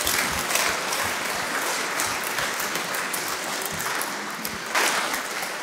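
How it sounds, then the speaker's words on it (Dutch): Audience applause at the close of an agricultural policy debate, a dense, sustained patter of many hands clapping at moderate volume with no talking over it. "Geef een applaus."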